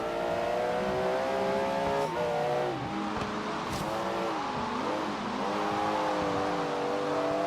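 A race car in Forza Horizon 3 revs hard while accelerating through its gears on the last lap. The loud engine note climbs and drops with each shift, steady and close, with no talking.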